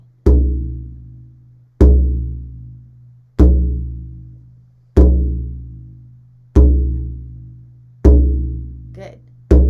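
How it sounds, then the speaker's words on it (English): Six evenly spaced strikes on a frame drum each give a deep, booming thud that rings and resonates before fading, heard loud and close with no talking. "So the drum is resonating and ringing."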